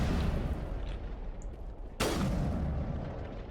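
Gunfire in the video game Mass Effect: a steady roar of distant battle noise, broken by one sharp, loud shot about halfway through that decays slowly.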